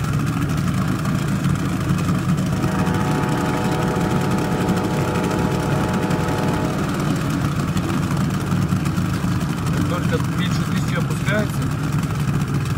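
A car engine idling unevenly at low revs below 1000 rpm with a faulty tachometer, a steady close rumble with a whining tone partway through and some irregular noise near the end, with someone talking over it.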